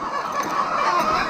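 Layer hens cluck continuously nearby on a farm, a busy overlapping chatter of fowl.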